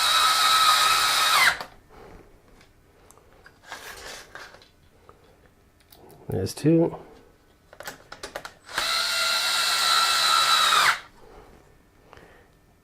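A power tool drives screws into the circuit board of an Acer 27-inch S71H monitor in short, loud whirring bursts separated by quiet pauses, with handling clatter and a brief spoken remark between bursts.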